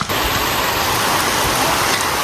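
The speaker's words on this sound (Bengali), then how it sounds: "আপাতত বিশাল জোরে বৃষ্টি নেমে গেছে ভাই" Heavy rain pours down steadily and close by, a dense, continuous hiss and patter with no talking over it.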